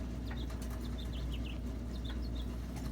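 A young bird flaps its wings as it flies off into grass, giving a quick flutter of soft beats over a steady low outdoor rumble, with faint chirps scattered throughout.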